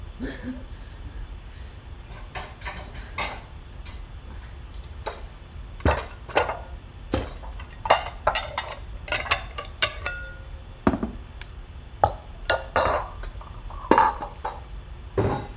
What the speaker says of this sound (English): Now we need a glass bowl.